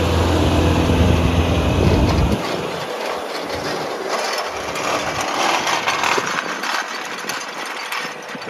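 A machine works loose, dusty ground to prepare a dove field for planting, giving a loud rumbling, clattering pass up close that eases into a steadier grinding rattle as it moves along.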